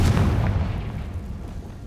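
Confringo fire-blast spell detonating in Hogwarts Legacy, a loud, deep boom with a rumbling decay over about two seconds, heard alone.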